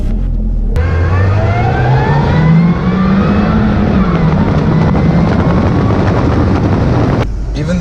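Supercharged four-cylinder engine of a 2003 Mini Cooper S accelerating, a loud, steady drone with rising tonal sweeps as revs climb, heard from inside the car with a voice talking over it.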